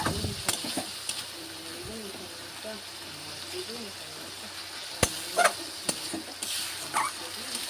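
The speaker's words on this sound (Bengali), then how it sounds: "মশলা ভালোভাবে ভাজা হয়ে গেছে," Spices fry in a pan alongside pressed tomato for a prawn malai curry, a low steady sizzle under occasional spoon scrapes and clatters, with faint background voices and bird calls.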